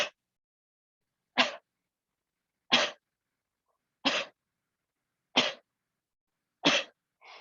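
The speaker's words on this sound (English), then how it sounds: "You soften your knees and then you cough." Six deliberate coughs with softened knees, performed as a pranayama diaphragm exercise: sharp, close bursts at an even, unhurried rhythm, separated by silence, with no talking.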